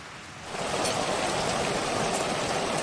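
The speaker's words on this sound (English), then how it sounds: "The daily battle against the rain's taking a lot of time and energy." Heavy summer rain pours steadily over an off-grid cabin build site in France, a dense continuous hiss that swells after a quieter first half-second and then holds loud and even, with no voices.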